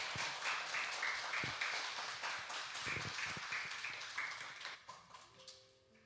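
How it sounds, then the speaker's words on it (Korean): Members of a church congregation at a Sunday service clap steadily in sustained applause that tapers off toward the end. "큰 격려의 박수 부탁드리겠습니다."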